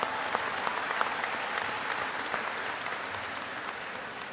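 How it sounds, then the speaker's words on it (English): Steady, dense applause from a large audience at a university spring graduate commencement ceremony, a continuous wash of many hands clapping that holds evenly throughout. "let's get a round of applause."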